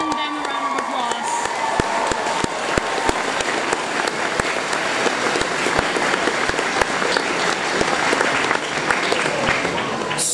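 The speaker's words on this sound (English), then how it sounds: "So give yourself and them a round of applause" Audience applause at the Danish Cosplay Championships during J-Popcon 2021, a loud sustained burst of dense clapping with some cheering, continuing steadily the whole time.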